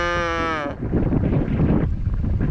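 A hungry, underfed Jersey cow calf, apparently male, bleats in a loud, drawn-out call at the start, followed by rough, noisy outdoor rustling and movement close by.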